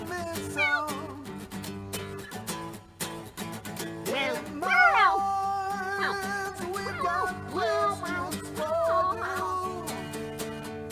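A cat meows repeatedly with rising and falling wails, several close calls in a row over a faint background hum.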